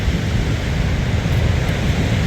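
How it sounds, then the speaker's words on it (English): Ocean waves rolling onto a beach near a harbor with a heavy swell, heard as a continuous broadband wash of surf and wind noise, fairly loud and with no talking. "Watching these waves roll onto the beach."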